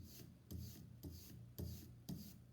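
Brayer rolling printmaking ink across a block, a dry sandpaper-like rasp repeating in about five even strokes, close and fairly quiet with nothing else heard.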